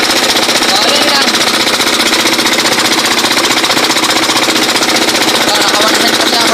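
Farm machine engine running in a rice field, a loud, fast, steady mechanical chugging with a rapid knocking pulse that holds throughout, with a voice speaking over it.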